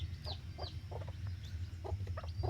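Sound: fighting-breed chicks clucking

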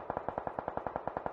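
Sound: gunshots in a video game scrimmage

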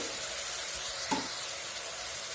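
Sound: brinjal pieces frying in oil

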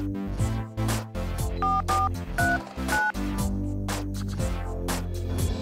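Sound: telephone being dialed

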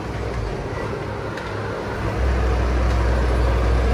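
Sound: waterfall

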